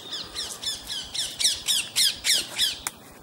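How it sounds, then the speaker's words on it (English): A parrot in a back garden gives a run of about nine harsh, rhythmic squawks, loud and close, each a rasping burst in quick succession, ending with a sharp click. "hello Mr. Parrot, welcome to my country."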